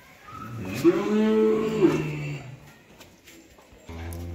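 A heifer lets out one long, fairly close moo that rises and fades, followed by quieter farmyard background sounds.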